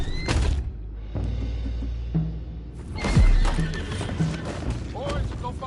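A horse whinnies loudly in Red Dead Redemption 2, with hooves clopping and scattered thumps and other game effects around it.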